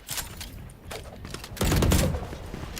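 Rapid bursts of gunfire crackle in a Valorant match, followed by a louder, fuller blast of a grenade going off, close and punchy over game noise.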